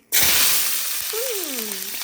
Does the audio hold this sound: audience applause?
no